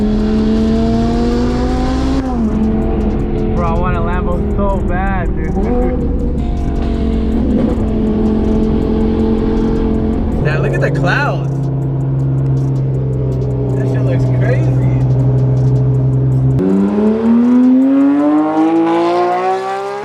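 Loud twin-turbo Lamborghini engine revving hard close by, pitch climbing and dropping in repeated bursts with a deep growl between revs, voices occasionally heard.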